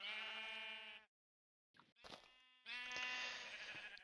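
Sheep bleat in the video game Minecraft: a long sustained bleat, a short break, then brief broken calls and another long bleat, loud and close with no talking.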